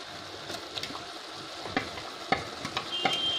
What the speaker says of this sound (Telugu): ఇప్పుడు టమాటా కలిపేద్దాం.